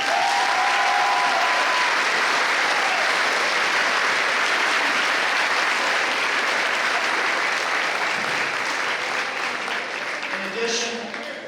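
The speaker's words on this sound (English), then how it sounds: "we need to give him a big round of applause for that" Sustained applause from an assembly audience honoring an absent donor, a dense steady wash of many hands clapping near and loud, tapering slightly toward the end with a few voices surfacing.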